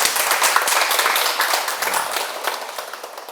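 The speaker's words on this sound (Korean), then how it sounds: "본받도록 박수로 크게 한번 쳐주세요." Audience clapping at a Sunday meditation lecture, a full, even round of applause from many hands that carries on steadily without speech.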